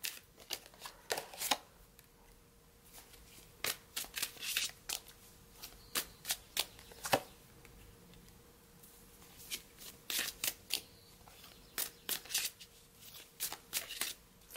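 A deck of oracle cards is shuffled by hand in a steady run of crisp, riffling bursts, close up and fairly loud, with no voices over them.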